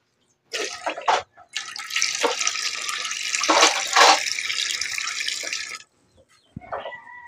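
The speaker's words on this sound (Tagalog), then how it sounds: "maglalagay tayo ng gata dito sa kawali" Coconut milk pours into a pan in a steady liquid splashing rush lasting several seconds, with brief splashes before and a short trickle after, close and fairly loud.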